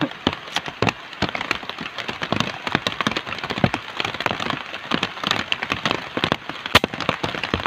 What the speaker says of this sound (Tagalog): At 108 meters, ang lakas pa ng ulan.